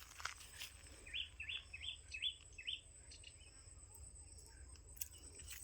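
A forest bird gives a quick series of five clear chirps early on, faint against a soft background of insects and other distant calls.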